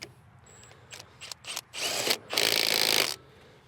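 Milwaukee M12 Fuel Stubby impact wrench in power mode 3 loosening a bolt on a car, giving short bursts of whirring, then two longer loud hammering runs close by.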